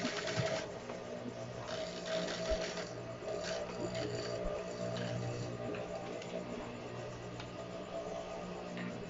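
An industrial sewing machine stitches a jeans waistband, a steady close mechanical whir with rapid needle rhythm running through the whole stretch, with occasional small clicks and pauses in pace.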